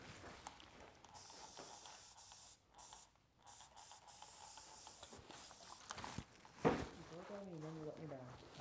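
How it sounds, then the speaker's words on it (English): A spray bottle mists water onto a woman's short hair during a haircut, giving several soft close hissing bursts, with a brief voice near the end. "I'm gonna spray her off again."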